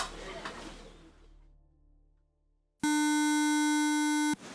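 A mobile phone rings with an incoming call, a loud steady electronic tone starting abruptly after a quiet pause and holding for about a second and a half, preceded by faint background noise.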